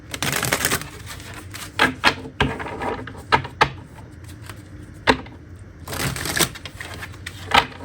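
An oracle card deck from an Investigations Oracle set being shuffled close by, with a run of crisp riffling bursts and sharp snaps of cards knocking together. No voice is heard.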